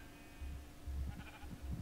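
A single sheep in the Minecraft video game gives a short, wavering bleat, close and fairly quiet, with no talking over it.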